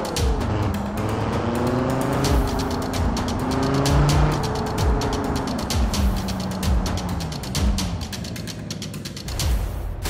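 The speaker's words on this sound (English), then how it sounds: "Let's see how our next vehicle, the Dodge Viper, will perform." A Dodge Viper driving in BeamNG Drive, its engine loud and close, revving up through several gear shifts with rising and falling pitch and steady road roar, no voices.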